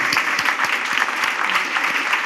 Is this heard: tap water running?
no